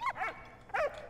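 A dog in the World War I video game Valiant Hearts: The Great War gives two short, sharp barks, clear and close, with a brief gap between them.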